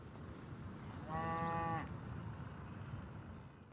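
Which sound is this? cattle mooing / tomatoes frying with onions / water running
cattle mooing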